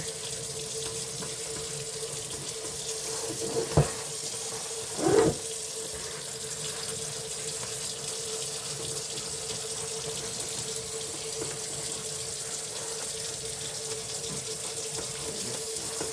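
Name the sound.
water running from hose on kitchen sink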